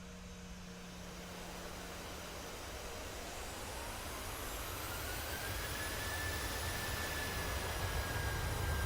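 A Boeing 737-800 NG jet on short final approach in Microsoft Flight Simulator, giving a loud, steady broadband engine roar that slowly builds, with a faint rising whine layered over it and no talking.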